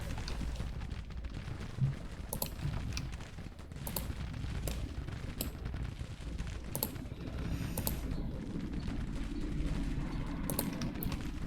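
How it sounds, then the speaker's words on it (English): Steady, rapid bursts of video game gunfire crackle throughout, dense and continuous like a battle soundscape, with sharp individual shots popping out over the din. "Can't hear myself over the sound of the gunfire"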